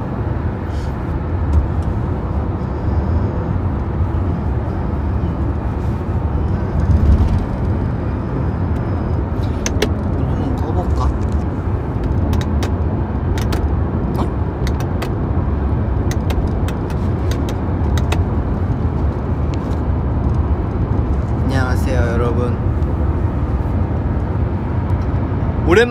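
A car is driving, heard from inside the moving vehicle at night: a steady low road and engine rumble with occasional faint clicks and thumps. A voice is faintly audible at times.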